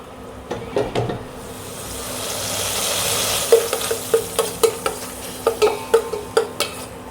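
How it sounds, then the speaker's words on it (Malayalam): A Kerala curry with ginger-garlic paste and green chillies is stirred in a frying pan over a soft sizzle, with scattered scrapes early on and then a quick, regular run of spoon-against-pan strokes close by. "നന്നായി നമ്മൾ ഇളക്കാം, അടി പിടിക്കാൻ പാടില്ല കേട്ടോ"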